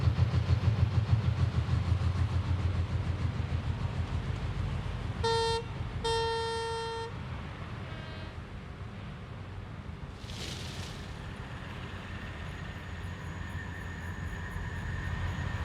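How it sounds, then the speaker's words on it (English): Train in Train Sim World 6 on the GWE route: a steady low rumble of a train starting up, with two short horn blasts in the middle and a hissing burst later, no voices. "Takes a lot to get the train started, but takes a lot to get it to stop."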